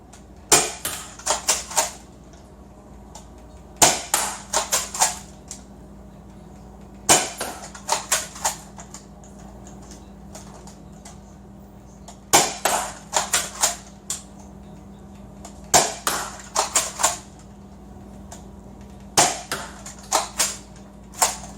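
An Adventure Force Aeon Pro toy blaster firing foam darts in rapid volleys of four to six sharp snapping shots, each burst followed by a few seconds of near quiet, loud and close.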